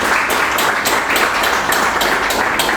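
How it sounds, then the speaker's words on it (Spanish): Loud, sustained applause fills the hall at a book presentation held at a book fair, a close, dense wash of many hands clapping steadily throughout with faint rhythmic pulses. "Le vamos a dar un fuerte aplauso"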